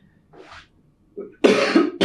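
A person imitates a cough: a soft breathy hack, then two harsh, loud coughs in quick succession, close to the listener.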